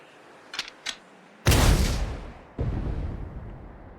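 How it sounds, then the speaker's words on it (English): A single heavy tank cannon blast in the video game Sand Land booms out loudly after a couple of faint clicks, its roar decaying over about a second before a second rumbling impact follows. "Fire one shot right at the midpoint between Shiva and the Royal Army!"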